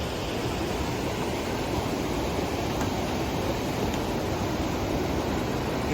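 Rushing mountain stream water near Kedarnath roars in a dense, constant wash of broadband noise, loud and close and unbroken throughout, without speech.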